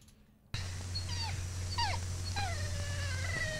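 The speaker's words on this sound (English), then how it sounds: "that dog doesn't like the barrel" On a farm, a dog whimpers and whines at a barrel in a string of high, sliding cries over a steady low hum, moderately close and fairly quiet.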